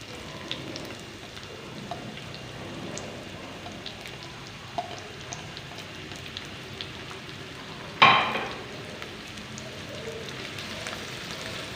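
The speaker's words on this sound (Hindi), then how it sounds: "ऑयल यहाँ पे हमारा गरम हो चुका है। अब हम प्याज शामिल करेंगे।" Onions frying in hot oil give a steady, soft crackling sizzle throughout, with one louder clatter partway through and no talking.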